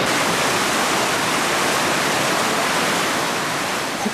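Waterfall and flowing stream water in a forest in Israel, a steady, loud, broadband rush that holds constant without a break and has no voices over it.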